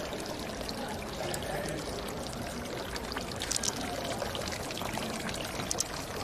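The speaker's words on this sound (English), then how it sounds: "Lovely water feature here." Water pours steadily from an outdoor water feature, a continuous close splashing stream with a few brighter droplet spatters, no voices over it.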